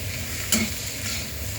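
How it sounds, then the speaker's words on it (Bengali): Potato, egg and onion frying together in a pan, giving a steady low sizzle with a brief sharp scrape of stirring near the middle. "তো আলু আর ডিম, পেঁয়াজ এগুলো খুব সুন্দরভাবে ভাজা হয়ে গেছে দেখুন।"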